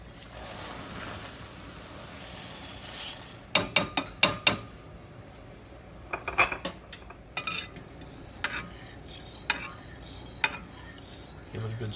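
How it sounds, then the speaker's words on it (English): Rice being stirred into boiling water in a pot with a fork for black beans and rice: a run of close metallic clinks and scrapes against the pot, irregular and clustered, over a soft bubbling background hiss. "Give it a good stir. Always with a fork."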